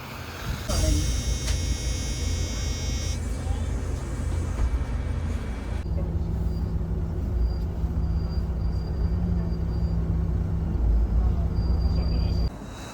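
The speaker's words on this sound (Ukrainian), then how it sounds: "От і мій автобусик." A city bus in Iceland pulls up to the stop in winter darkness, its engine rumbling low and steady with a hiss of brakes, a sustained drone filling the stop, heard close and fairly loud.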